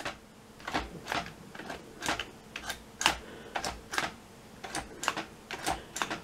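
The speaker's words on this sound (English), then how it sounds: "as you press the keys," The keyboard of a Polish Enigma machine replica, mechanically sound though electrically faulty, gives a quiet run of distinct clicks and clacks as keys are pressed one after another at an uneven pace, close by.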